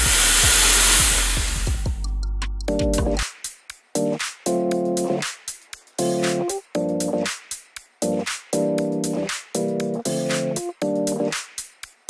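A ROIDMI Miro hair dryer running at maximum speed gives a loud, close airflow roar at first, then a steady whining hum that pulses in regular bursts, with no voices.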